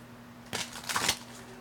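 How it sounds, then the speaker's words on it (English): A deck of oracle cards is riffled in a short, crisp flurry of papery flicks lasting about half a second, close by over a faint steady hum. "But let me shuffle these cards."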